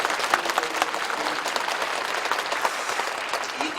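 A church congregation applauds, dense steady clapping from many hands filling the room for a few seconds without a break.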